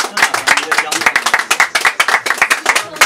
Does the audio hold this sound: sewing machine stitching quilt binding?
no